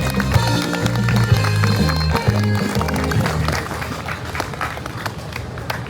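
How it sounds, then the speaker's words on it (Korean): A crowd applauds at a union general strike rally for an insurance workers' branch, dense clapping that carries on under amplified music and a voice, growing sparser toward the end. "뜨거운 박수 부탁드리겠습니다"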